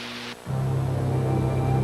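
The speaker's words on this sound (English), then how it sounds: "What he hears is no more interesting than the hiss of a radio tuned between stations." Radio astronomy signal heard as steady broadband static hiss, like a radio tuned between stations, starting after a short change and holding loud and even underneath a low hum.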